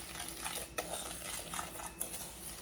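A spoon scrapes and stirs sugar crumble topping in a bowl for blueberry crumble cookies, producing soft gritty scraping with a couple of sharp clinks against the bowl, close and quiet with no talking.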